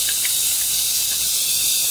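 Chopped onion hits a hot pan and sizzles loudly, a continuous bright hiss filling the short moment with no talking.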